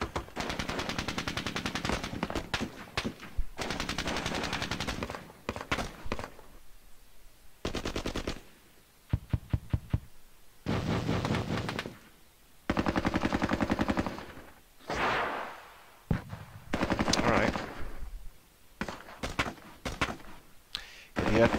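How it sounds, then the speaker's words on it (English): Small arms fire in the Soviet-Afghan War strategy game Squad Battles comes in repeated loud bursts and volleys separated by short silences. Some sharp isolated shots fall between the longer bursts. "We're in small arms fire range now."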